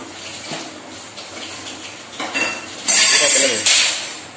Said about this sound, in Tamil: கிளறிக்கிட்டே இரு, கட்டி பிடிச்சிட போகுது.